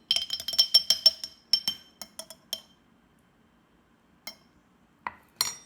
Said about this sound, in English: Make sure you're using a dry spoon when stirring it all up